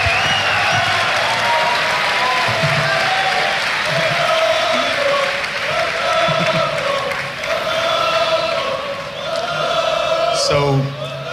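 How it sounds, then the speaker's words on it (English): A Spanish crowd at an esports event, a League of Legends Challenger semifinal, applauds and cheers in a loud, sustained wash of clapping and shouts, with voices talking over it throughout. "the way Spanish crowd is just answering to him"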